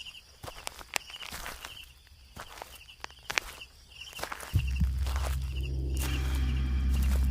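Slow footsteps crunch over graveyard ground in a horror story, spaced and fairly close, before a low steady drone swells in and continues underneath.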